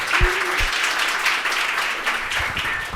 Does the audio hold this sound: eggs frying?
no